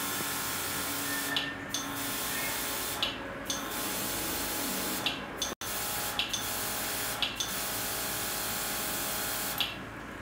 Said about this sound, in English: airbrush gun is our normal popular airbrush gun